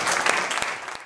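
A crowd at a Jungle Fight show claps in a dense, continuous burst of applause that fades slightly at the end.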